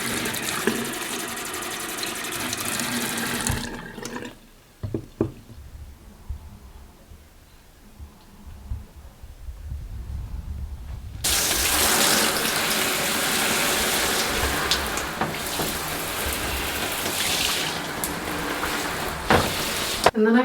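Water pouring from a tap to fill a houseplant pot and soak it through, a loud steady gushing stream that stops, leaves a quiet pause with a few small knocks, then resumes strongly.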